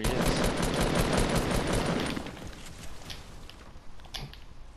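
Rapid automatic gunfire crackles in a Fortnite duo match, dense and loud at first, then fading into scattered, more distant shots.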